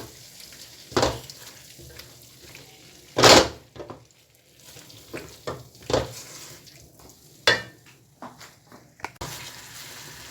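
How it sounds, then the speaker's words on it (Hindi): Mutton karahi is fried with cream while being stirred, with a soft background sizzle cut by several sharp, separate spatula scrapes and clanks against the pan. "इसकी मैं अच्छे से भुनाई कर लूँगी दोबारा से।"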